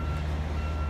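A truck backing up at a prison, its reversing alarm sounding as a steady high beep over a loud, continuous low engine rumble close by.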